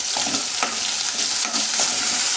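Chopped onion and finely minced green chilli fry over a low flame in a pan for chilli paneer, a loud continuous sizzle broken by repeated stirring scrapes, with no one talking.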